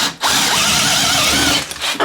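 Teccpo 12-inch cordless drill with a 4-pole brushed motor boring through a knot in wood, a steady loud whine and grind lasting about a second and a half, with brief pauses before and after.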